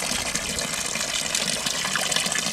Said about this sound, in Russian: Вот маленький фонтанчик.